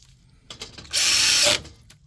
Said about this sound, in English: So you're going to put 2 screws, just like that.